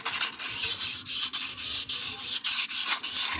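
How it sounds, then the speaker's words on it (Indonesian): Steady back-and-forth hand sanding of a metal Yamaha motorcycle piston part, a rhythmic gritty rasp repeating about three times a second, close and loud with no talking. "gosok seperti ini sampai benar-benar halus ya teman-teman"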